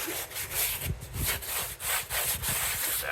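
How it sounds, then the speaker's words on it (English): A brush scrubs a Ford F-350 truck tire coated in strong cleaner, giving rhythmic, close, wet rasping strokes repeated in quick succession. "Really did a good job scrubbing that out."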